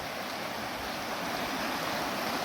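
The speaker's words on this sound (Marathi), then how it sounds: "कशी खडखड वाहत आहे नदी." A river rushes noisily through dense forest at Jatashankar in the Satpuda hills, a steady broadband roar of flowing water, close and continuous with no voices.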